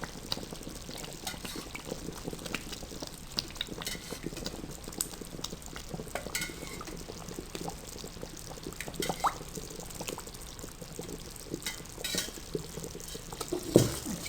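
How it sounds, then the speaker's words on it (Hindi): Melted ghee, about half a litre, poured into a pan for milk makhandi halwa, giving a steady liquid pour with soft bubbling and occasional clinks and stirring sounds, close and moderately quiet throughout. "आप घी को पहले से मेल्ट कर लें और इसमें तकरीबन आधा लीटर के करीब घी डाल दें।"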